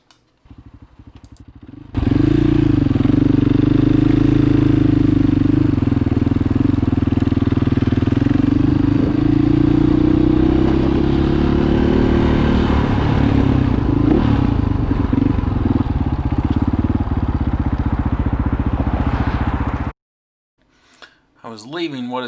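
A BVC conversion trike, a street-legal modern three-wheeler, rides through a downtown area with a loud, continuous engine drone and rushing wind noise for most of the clip before cutting off abruptly.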